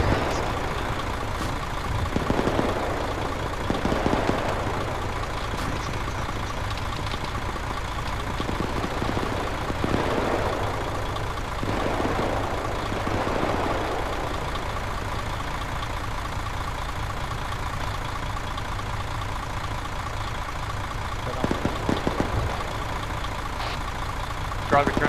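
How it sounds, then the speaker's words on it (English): A military truck engine idles in ArmA 3 with a steady low rumble that runs the whole time, joined by occasional brief hiss-like bursts and voices talking over it. "Driver, turn off the engine."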